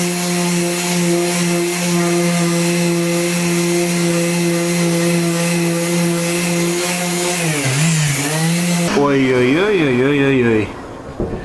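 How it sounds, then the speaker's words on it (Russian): A power sander grinds a second coat of automotive body filler putty over zinc-coated metal, a steady loud harmonic whine that holds for about eight seconds, then drops and wavers in pitch before cutting off. "Шлифуем вторую шпатлевку."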